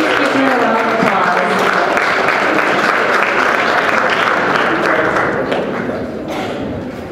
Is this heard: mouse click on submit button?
no